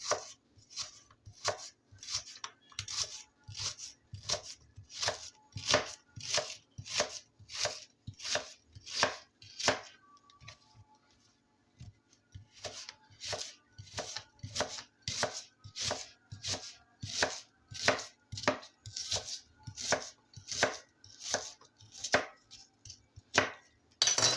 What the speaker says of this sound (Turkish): Soğanlarımızı da yarım ay şeklinde doğruyoruz.